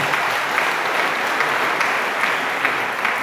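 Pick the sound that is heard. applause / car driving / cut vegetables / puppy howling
applause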